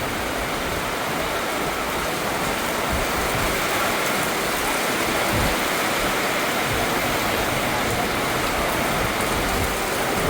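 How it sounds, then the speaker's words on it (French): Heavy tropical rain in Cartagena pours down steadily, a dense, loud hiss of water drumming on surfaces throughout, with no voices. "Ça, c'est une vraie pluie tropicale."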